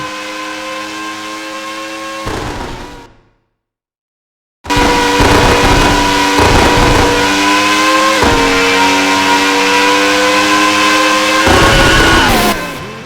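A Formula One car engine in the PlayStation racing game F1 World Grand Prix, a loud high-pitched whine that revs and shifts through gears, cuts out briefly to silence, then returns at full volume.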